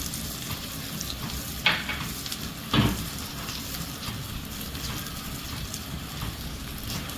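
Ginger and garlic sizzle in hot oil for tempering, a continuous crackling fry heard alone, with a couple of brief louder spits or clatters partway through.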